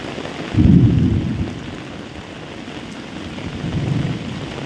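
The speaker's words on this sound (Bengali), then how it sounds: "তবে এখন একটু বৃষ্টি উপভোগ করে আসি।" Heavy monsoon rain falls steadily in a village, a dense, constant hiss. A deep roll of thunder swells near the start and fades, with a softer rumble later.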